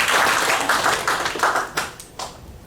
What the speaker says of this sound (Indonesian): Tepuk tangan lagi buat Tuhan.